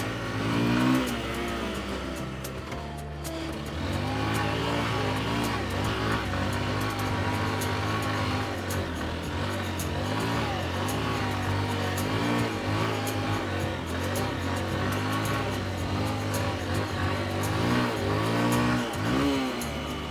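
A Honda CBF 150 motorcycle, stuck off-road, revs hard and close in repeated rising and falling surges that hold steady loud throughout.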